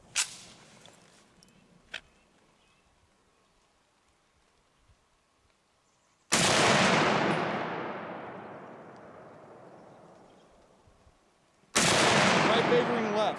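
Two loud, sharp M1 Garand rifle shots, spaced several seconds apart, each with a long echoing decay, preceded by a few faint clicks and handling noises.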